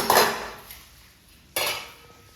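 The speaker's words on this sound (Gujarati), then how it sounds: "તો વાસણ ચડાવી દઈએ" A metal cooking pot is set down on a village stove with two sharp clanks, one at the start and another about a second and a half later, each ringing briefly before fading.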